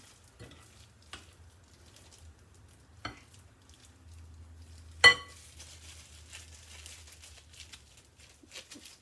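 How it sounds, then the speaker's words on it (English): Stuffed meatballs with Colby Jack cheese sizzle softly in a pan, a low steady frying hiss broken by a few clinks and one sharp knock as pieces are set down side by side. "I'm just putting them in the pan like side by side right now"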